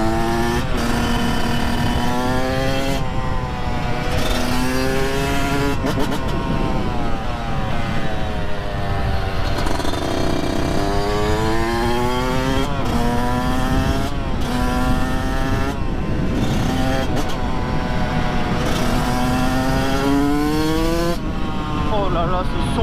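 Yamaha YZ 125 supermoto two-stroke being ridden hard up to the rev limiter in sixth gear, a loud, close, buzzing engine whose pitch climbs and dips repeatedly through rising rev sweeps, with voices talking underneath at times.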